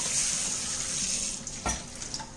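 Water splashes into a still-hot pan for cleaning, giving a steady close hissing rush with a brief louder surge about two-thirds of the way through; no talking.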